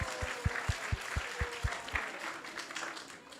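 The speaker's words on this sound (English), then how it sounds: "So let's give a big round of applause to everyone who has joined us tonight." Audience applause at a Krishna Katha gathering on the Bhagavad Gita, heard as a short run of about nine evenly spaced, fairly faint claps in a reverberant room before trailing off.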